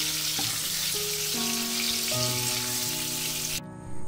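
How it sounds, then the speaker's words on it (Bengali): Prawns fry lightly in oil in a pan, a steady close sizzle with faint stirring, heard on its own before the noise cuts out near the end. "চিংড়ি মাছগুলোকে নাড়াচাড়া করে খুব হালকা করে ভেজে নিয়েছি।"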